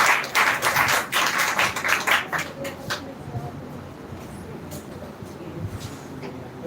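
Audience clapping at a women's speech competition semi-final, a burst of many hands for the next speaker that is dense and loud at first, then thins out and fades to scattered claps.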